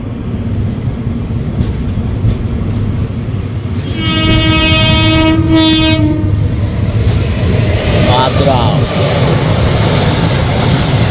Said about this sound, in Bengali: একটা মেমু ট্রেন আসছে।